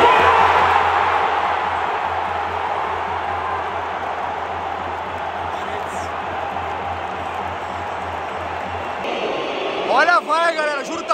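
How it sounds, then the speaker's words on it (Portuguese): A stadium crowd boos loudly and steadily during a World Cup penalty shootout between Argentina and the Netherlands, a sustained distant roar that fades slightly before a sharp cut near the end, with a voice talking over it. "Olha a vaia, galera. Juro, tá muito alta"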